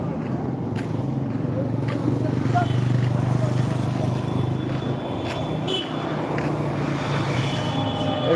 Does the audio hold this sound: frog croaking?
no